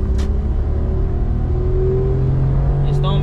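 A Honda Z kei car's small engine revs hard under full acceleration, heard from inside the cabin: a loud, steady drone with a rising pitch over road and wind noise. Brief voices are heard faintly.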